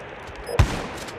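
A single sharp sniper rifle shot cracks out in an online shooting game, one loud close burst followed by a short fading tail.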